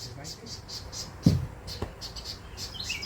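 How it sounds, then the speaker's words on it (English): A bird calls near its nest on a porch, giving a short string of faint, high chirps at a moderate distance over a soft background hum, with one brief louder knock partway through. "if you can hear that bird"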